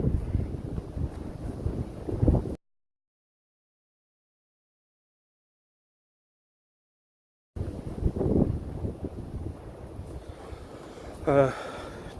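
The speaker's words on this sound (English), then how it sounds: "sorry if it's still windy." Wind buffeting the microphone in rough low rumbles, cutting out to silence for several seconds before the gusty roar returns.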